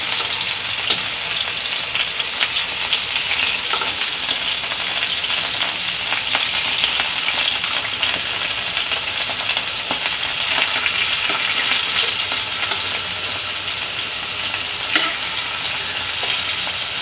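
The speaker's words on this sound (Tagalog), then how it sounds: "Na-fry na natin yun ang ating yan." Pork sizzling and frying in a pan for bistek tagalog, a steady crackling hiss with occasional louder pops, close and continuous throughout with no voices.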